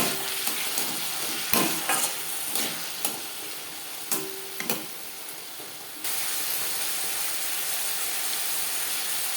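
Potato pieces frying with okra in a pan for a vegetarian aloo bhindi curry, with scraping stirs and brief clatters over a steady close sizzle that grows louder and denser near the end.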